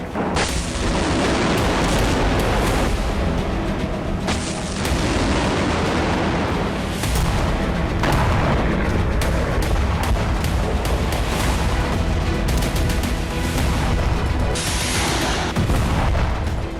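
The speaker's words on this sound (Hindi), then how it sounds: "अब यहां अटैक एमएस और स्टॉर्म शैडो से धमाके हो रहे हैं" Continuous heavy booming and rumbling explosions from ATACMS and Storm Shadow missile strikes in the Russia-Ukraine war, loud and dense throughout, with blasts overlapping one another and no pauses.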